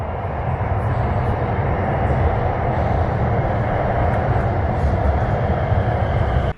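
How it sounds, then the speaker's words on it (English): A Shanghai Metro train rumbles steadily and loudly into a station, a constant low roar with rattling that holds for several seconds before cutting off abruptly. "Here comes another train."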